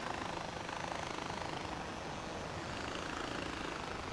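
A steady, dense engine drone comes from an airplane in flight in the video game Far Cry 4, continuous and loud with no voices over it.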